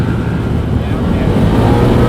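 A four-wheel-drive side-by-side off-road vehicle accelerates hard on a trail, its engine roaring loud and close in a steady rising drone while a voice speaks over it.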